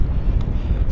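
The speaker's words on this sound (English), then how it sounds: "I've got a headwind for the rest of the day." Strong headwind buffets the microphone on a fully loaded bicycle tour in Florida and Georgia, a steady low rumbling roar of wind noise that runs through the whole moment without letup.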